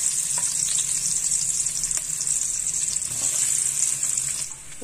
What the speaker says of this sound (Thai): ใส่กระเทียมลงไปผัดนิดหนึ่ง